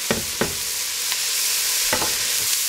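A spoon stirs garlic, chopped rosemary and parsley in a pot for asparagus soup, giving a few sharp scraping strokes over a soft, steady sizzle with no talking.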